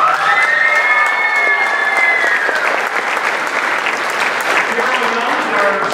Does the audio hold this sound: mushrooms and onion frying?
no